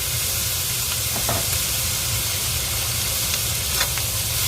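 Sake sizzles steadily as it cooks down in a pan with shredded meat and shiitake, a close, continuous hiss of frying broken by a few faint clicks of stirring, with no talking.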